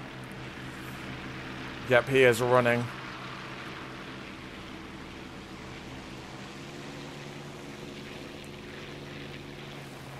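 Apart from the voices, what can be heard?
I-153 biplane engine in the video game War Thunder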